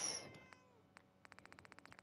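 A cat in the video game Fallout 4 gives a short, faint meow at the start, followed by quiet scattered clicks and a rapid run of light taps.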